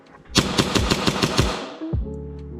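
An HPA airsoft pistol regulated to 110 psi fires a rapid burst of about eight sharp, loud cracks in quick succession, close up, followed by a brief hiss and hum.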